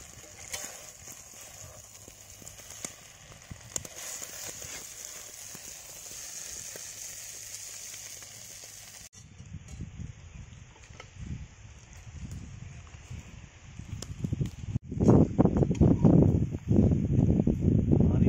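Egg paniyaram in ghee gravy sizzles in a pan, a faint crackle at first, then louder, rough scraping and stirring strokes near the end, with no talking.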